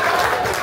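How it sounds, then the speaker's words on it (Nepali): Audience applause at a Sherpa community Losar New Year celebration in America, a short steady burst of many hands clapping together in a hall with crowd noise. "जोरदार तालीले स्वागत गरौँ"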